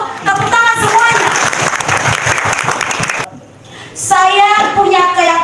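Lively audience applause at a motivational seminar, loud and dense clapping under excited voices, breaking off abruptly for about a second before a voice comes back over renewed cheering.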